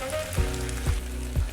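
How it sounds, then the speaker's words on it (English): Snow peas fry in a pan with a steady sizzle, broken by three soft, evenly spaced thumps. "it's my time now to add the snow peas, which are green in color"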